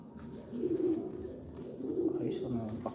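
Pigeons coo in soft, low, rolling phrases, two bursts close by, with faint background noise.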